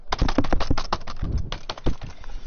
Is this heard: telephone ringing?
no